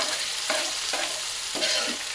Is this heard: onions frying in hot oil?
yes